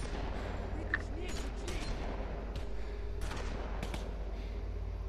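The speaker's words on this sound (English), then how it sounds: "Bullets flying everywhere." Gunfire in The Walking Dead Season 2 video game, a dense, continuous rattle of shots over a rumbling low background with a few sharper cracks. A voice talks over it at times.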